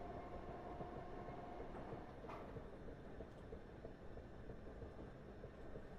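A train rolls along the track at low, steady volume, a continuous rumbling rail noise with a faint brief squeal partway through, no voices over it.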